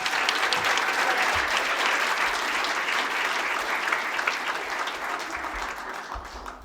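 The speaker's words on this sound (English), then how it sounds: "One more time, a big round of applause for both Jan and William" Sustained audience applause at the inaugural Luminas awards event, a dense wash of clapping that holds steady and loud for several seconds before easing slightly toward the end.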